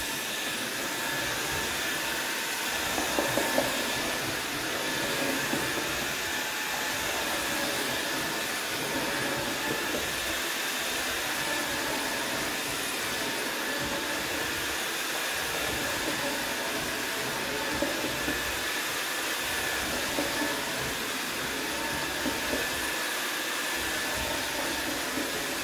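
A Jimmy PW11 Pro Max cordless wet-and-dry handheld vacuum cleaner runs continuously with a steady broadband whir and hiss, close and fairly loud, holding an even level throughout with no talking.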